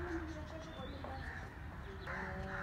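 Chickens in Kathmandu making soft clucks and short calls at moderate distance, over a murmuring background that may include voices.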